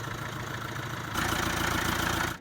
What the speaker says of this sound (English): longing for the awesome sound and the torque that comes with diesel engines